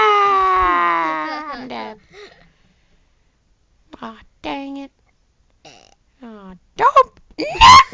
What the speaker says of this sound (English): Don't burp on internet